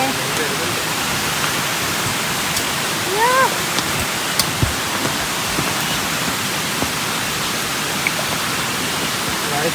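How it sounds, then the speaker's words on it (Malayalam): Heavy rain pours steadily beside a fish pond in Wayanad, a dense, loud, even hiss throughout, with a brief call and a few faint knocks over it. "നല്ല മഴ ആയതുകൊണ്ട്"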